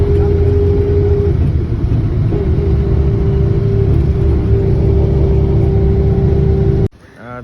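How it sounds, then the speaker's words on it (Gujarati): A bus engine near Poovar, Kerala, rumbles loud and steady close by with a sustained hum, idling and running before cutting off abruptly near the end. "બસ આવી ગઈ છે. હવે આ બસમાં બેસીને અમે જઈશું."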